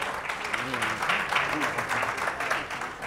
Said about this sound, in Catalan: Un aplaudiment pel Marc